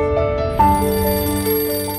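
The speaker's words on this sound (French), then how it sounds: "Le téléphone sonne" A telephone rings with a sustained electronic tone of stacked steady pitches, loud and close, a second ring pulse beginning partway through, with no voices.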